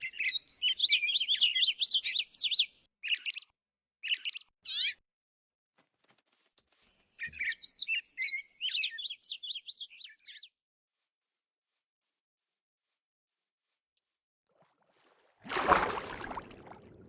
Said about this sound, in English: after we listen to these birds